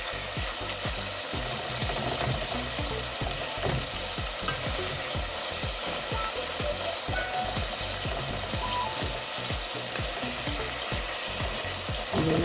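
Chicken tenderloin pan-frying in shallow oil, a steady dense sizzle with rapid crackling that runs continuously and fairly loud, close up, with no talking.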